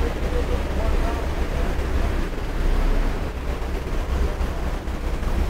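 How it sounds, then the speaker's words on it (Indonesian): Niagara Falls pours in a steady, dense roar of rushing water, heard close with buffeting wind over the microphone. "Niagara Waterfall."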